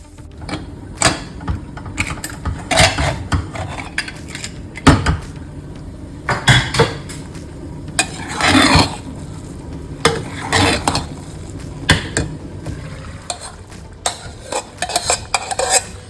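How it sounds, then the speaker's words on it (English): Metal utensils clink and scrape in a pan at irregular intervals over a soft sizzle of cashew nuts frying, close up, with no talking. "Last thing, we are frying the cashew nuts."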